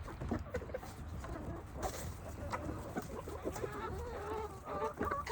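Several chickens cluck and murmur close by inside a coop on a flower farm, a busy overlapping chatter of short calls with occasional louder squawks.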